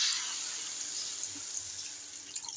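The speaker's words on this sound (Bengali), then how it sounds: "মশলা আমার কষানো হয়ে গেছে তাই আমি এবার জল ঢেলে দেবো" Water poured into a cooking pan of spiced paneer and vegetable curry, a steady broadband rush with faint splashing, continuous and close for a few seconds.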